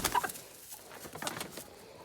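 Backyard chickens cluck and chirp in short bursts while eagerly seeking treats, with a louder burst at the start and softer calls scattered throughout.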